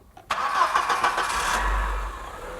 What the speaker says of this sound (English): kannst du mal bitte den Motor anmachen?